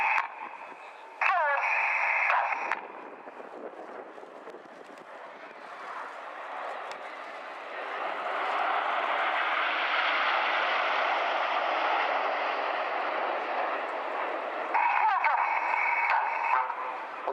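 A Eurofighter Typhoon jet flies past at an airshow, a broad roaring rush that swells gradually and holds, heard at a distance, with a crackly announcer-style voice briefly at the start and end.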